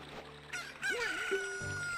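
A video game rooster from The Legend of Zelda: Ocarina of Time Master Quest crows once, a clear, fairly close cock-a-doodle-doo rising and falling over a low steady background hum.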